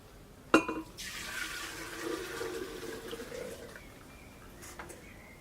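Coconut milk being poured into a container, a sharp knock and then a few seconds of steady liquid splashing and trickling that slowly tapers off.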